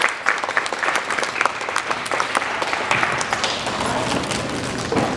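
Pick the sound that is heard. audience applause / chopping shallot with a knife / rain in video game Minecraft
audience applause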